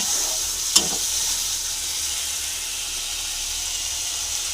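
Hot fried fish-curry masala in a pan sizzles steadily, with one sharp hissing burst as water hits the oil, then a continuous even frying hiss.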